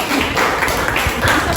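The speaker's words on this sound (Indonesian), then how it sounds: "Oke, tepuk tangan dong buat kelompok." A school class applauds a group of classmates with a short, dense patter of hand clapping in a room, steady and fairly loud with no clear pause.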